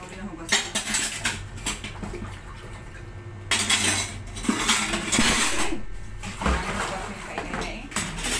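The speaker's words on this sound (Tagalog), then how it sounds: "Ngayon, hugasan ulit ang hugasin." Dishes washed at home: plates, pots and cutlery clatter and clink in busy, uneven bursts close by, with running water and handling noises throughout.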